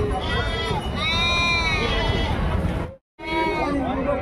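Goats and billy goats bleat repeatedly at the Gudur livestock market, several overlapping, drawn-out cries close by over a steady background of crowd chatter.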